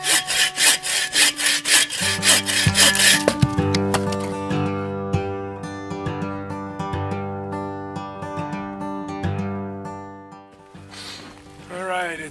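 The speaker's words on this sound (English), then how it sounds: "it's firewood cutting time" A handsaw cuts maple firewood outdoors in winter, with loud rhythmic back-and-forth rasping strokes close by for about three seconds. After that a resonant ringing tone lingers with light knocks and rubbing.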